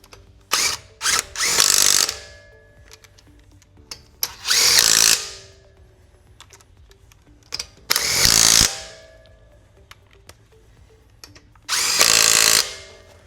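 Power tool driving caliper cover bolts on a Tesla Cybertruck, four separate loud whirring bursts of one to two seconds each with quiet pauses between, some with clicking ratchet starts.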